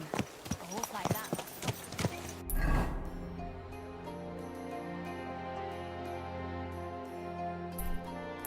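A horse in Kingdom Come: Deliverance II plods with a few close hoof clops at the start, followed by a heavy thud and a steady low ambient hum; a voice talks briefly over it.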